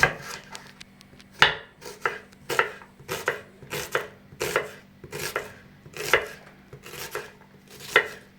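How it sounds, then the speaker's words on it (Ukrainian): An onion is cut into quarters with a knife on a cutting board: about a dozen crisp, close chops in a loose, steady rhythm over a quiet background. "Цибулю ділимо також на 4 частини одну четверту цибулі."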